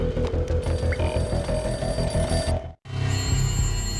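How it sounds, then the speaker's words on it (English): A beaten-up telephone in the entrance hall of a run-down building in the Max Payne video game rings steadily and loudly with a rapid electric bell rattle, cut off by a brief silence before the scene continues under game ambience. "A beaten-up phone in the entrance hall was ringing."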